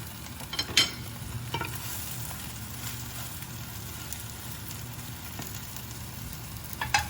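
A crispy Banh Xeo, a Vietnamese pancake, sizzles steadily in a hot pan through a flip, with a few soft scrapes and knocks of the spatula over a constant, fairly close frying hiss.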